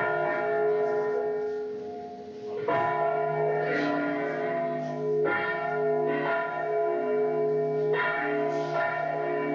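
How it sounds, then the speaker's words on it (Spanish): A church bell pushed and swung full circle in the Spanish volteo style rings out loud and near, its rich, sustained tone struck again every couple of seconds as the bell turns, with overlapping resonant hum. "Si la campana está a la altura del pecho, la campana se empuja."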